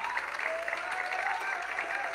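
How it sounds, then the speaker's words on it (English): Congregation at a revival service clapping their hands, a short, steady, dense burst of applause filling the hall with a murmur of voices underneath. "Can y'all give God a hand clap for your man of God?"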